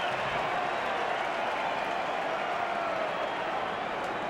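Rugby crowd in the stands roaring steadily at a 2007 Wallabies versus Wales test match, a dense, continuous wash of noise that holds loud and unbroken throughout.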